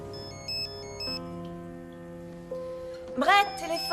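A modern telephone trills in short electronic bursts in a quiet room, followed by a musical swell at the end.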